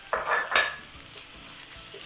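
Very small chicken pieces fry in a pan as they are stirred: two quick scraping bursts up front, then a faint, steady sizzle, quiet overall and with no talking.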